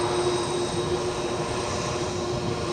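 A Boeing 767-300 jet departing Edinburgh airport for New York JFK, with a loud, steady engine roar and a constant whine that holds throughout without break.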